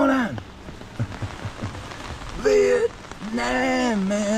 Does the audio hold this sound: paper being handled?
no